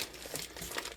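Plastic wrapping is pulled off a whole turkey, a brief close crinkling and rustling lasting about a second.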